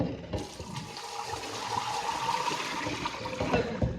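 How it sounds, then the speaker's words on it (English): Water is poured out of a pot of boiled potatoes, a close, loud gushing splash that starts abruptly and runs steadily for a few seconds before tapering off. "I'm just gonna pour out this water."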